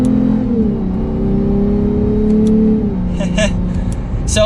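A 2021 Lexus IS 350 F Sport revs up in sport mode while driving, its engine pitch climbing smoothly then easing off, loud and close, followed by faint clicks and a brief whir.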